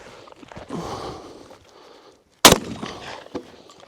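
One loud, sharp blast from a Hatsan shotgun cracks out close by during target shooting at 10 meters, with quiet rustling and shuffling sounds before and after it.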